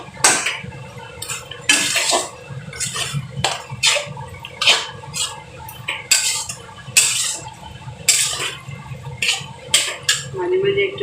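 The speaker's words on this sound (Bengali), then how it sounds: "এবার নাড়াচাড়া করে নিতে, ভালো করে কষাতে হবে।" A spatula scraping and clinking against a pan as Bombay duck fish curry (lote macher jhal) is stirred and cooked down without added water, with repeated metallic scrapes in an uneven rhythm, close and fairly loud, over a low background hum.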